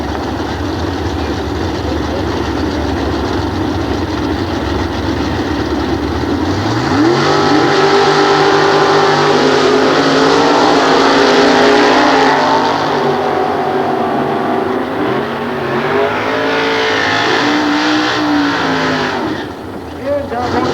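Drag race cars launch at the Sears Point nostalgia drags, engines building to a loud, close roar that holds and shifts in pitch for several seconds before fading, with a voice over an announcer system talking through it.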